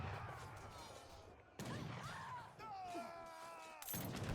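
Gunfire from a shooting animation in a real-time strategy battle game, bursts of shots crackling amid busy battle noise and clashing effects, with a sharp burst near the end.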